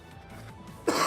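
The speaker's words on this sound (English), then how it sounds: "that was my coughing fit" A person with a cold gives a sudden loud cough or throat-clear near the end, bursting out of a quiet room-tone background, close to the microphone.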